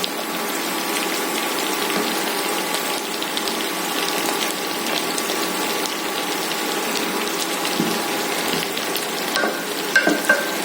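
Stuffed eggplants for a Nellore-style dish frying gently in oil over low heat, a steady dense sizzle running throughout with faint scraping stir sounds near the end, close and fairly loud, no talking.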